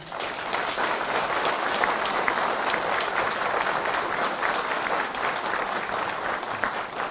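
A crowd at an outdoor public political gathering in Kula, Manisa, gives dense, continuous applause that stays loud and steady throughout, with no talk over it.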